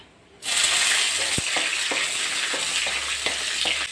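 Peanuts and chopped green chillies sizzle steadily in hot oil in a pan, a loud continuous frying hiss that starts abruptly, with occasional stirring clinks.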